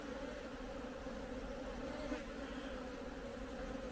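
Honey bees buzz around an open hive during queen rearing, a dense, continuous close-up hum of many insects with no talking.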